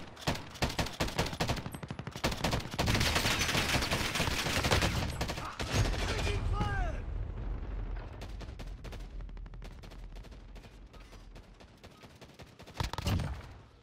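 Heavy automatic gunfire from the video game Call of Duty: Modern Warfare rattles in sustained loud bursts, then thins into scattered single shots and distant firing, with a final close burst near the end.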